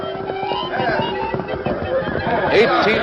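Palomino horses whinny and neigh loudly over a busy background, with a sharp high-pitched whinny rising near the end.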